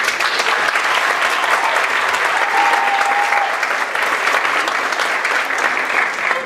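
At a school short-film premiere, an audience gives sustained, dense applause that fills the room, an even roar of clapping with no break and no speech over it.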